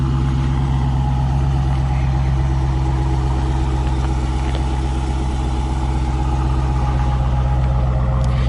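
A 2015 Dodge Challenger R/T Scat Pack V8 idles steadily nearby, a deep, even low rumble with a constant level and no voices.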